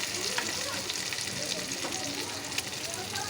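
Onions frying in a wok-style pan with bay leaves, giving a steady, close sizzle and crackle with occasional sharper pops throughout.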